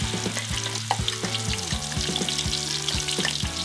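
Ground spice paste and lemongrass sautéing in a pan, a dense close sizzle broken by regular spatula scrapes and stirs, with no voices.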